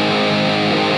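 Distorted electric guitar sounds a sustained flat-seven major chord, a loud, dense, saturated wash held for about a second with no talking.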